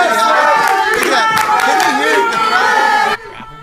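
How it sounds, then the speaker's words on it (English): Wrestling arena crowd cheering and chattering in a loud, steady roar, with voices and shouts layered over one another before the noise drops off abruptly near the end. "Can you hear the crowd?"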